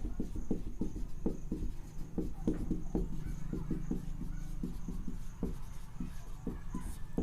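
Pen on paper writing out numbers for a maths problem, with a series of close, distinct scratching strokes in an irregular rhythm, no talking.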